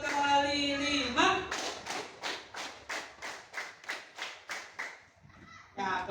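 A voice speaks briefly in Indonesian, calling out a clap pattern, then roughly a dozen sharp hand claps follow in a steady, even rhythm before the voice returns.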